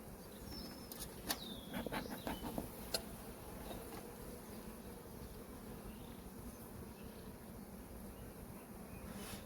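Honey bees buzz densely on a hive frame from a seven-frame colony, a continuous close hum with occasional sharper passing buzzes and faint knocks, no talking.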